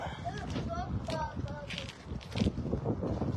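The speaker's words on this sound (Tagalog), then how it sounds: "Ang lampas ng hangin." Strong wind gusts buffet the microphone in a steady roar outdoors in snowy weather, with a voice talking over it.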